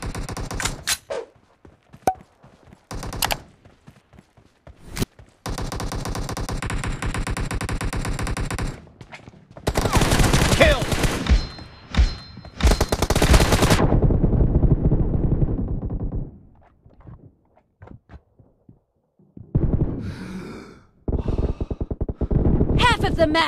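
Gunfire from PUBG Mobile comes in loud bursts of rapid automatic shots separated by quiet gaps, with short sharp single cracks in between and brief voices now and then.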